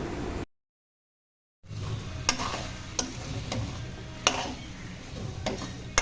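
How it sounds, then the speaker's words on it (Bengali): Fried potatoes go into mutton cooking down in spices: a soft, continuous sizzle with a few sharp clicks and scrapes of a spoon against the pan, briefly cut to silence near the start. "দিয়ে দিচ্ছি ভেজে রাখা আলু"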